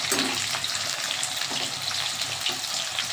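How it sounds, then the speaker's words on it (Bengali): Prawns fry in a pan with a steady, close sizzle that runs unbroken throughout, with a few small crackles and stirring scrapes on top. "ভাজা হচ্ছে, চিংড়ি মাছটা আমার হয়ে এসছে।"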